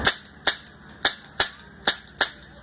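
A Tippmann M4 CPX airsoft rifle fires six sharp semi-automatic shots at a steady, roughly half-second pace, close and loud, with no BBs loaded and no talking.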